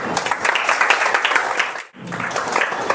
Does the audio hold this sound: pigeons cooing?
no